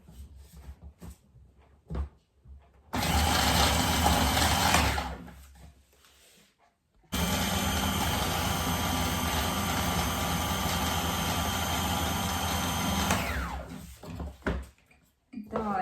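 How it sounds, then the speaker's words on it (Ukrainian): A steady electric whirring of a food processor's mixer beating two eggs runs for a couple of seconds, stops, then runs again for about six seconds, with faint clatter and talk around it. "І збиваємо міксером на комбайні."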